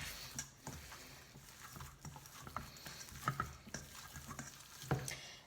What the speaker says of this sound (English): give it a good mix up again until they're all mixed through